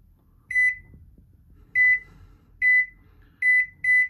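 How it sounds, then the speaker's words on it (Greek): Five short, clear electronic beeps from a microwave oven as settings are keyed in and it starts heating a glass of water, spaced irregularly over a few seconds with a faint hum between them. "πατάμε το start και ξεκινάει ο φούρνος μας να μας ζεστάνει το νεράκι"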